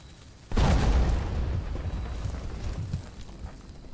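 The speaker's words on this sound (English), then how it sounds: "That's a smaller explosion than I thought" Explosion in the video game Blue Prince bursting open a wall: a sudden deep boom that swells, then a long rumbling decay of debris and low roar fading slowly.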